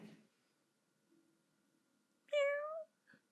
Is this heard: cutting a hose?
no